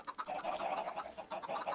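Chickens in a Minecraft-style server game, clucking in quick, busy bursts at close range, several short calls running together over under two seconds.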